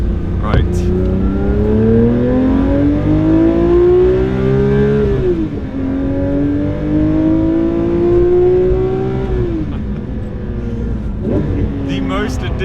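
A Porsche 911 S/T's engine revs hard toward a 9,000 RPM redline, the rising wail climbing through gears with brief dips at each shift, loud and close from inside the car.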